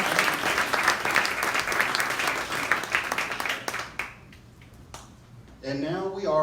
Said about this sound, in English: let's give another round of applause to Mr. Galen Kiltrap, one of Rockdale County's very own